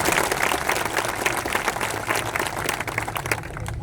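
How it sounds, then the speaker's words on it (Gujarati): A rally audience breaks into loud, dense applause, sustained clapping from many hands throughout, close and full. "જોરદાર આપણે તાળી પાડીને સન્માન કરીએ"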